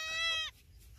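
A teddy goat, a doe with six kids, gives a single clear bleat lasting about half a second, close and loud, followed by quiet farmyard background.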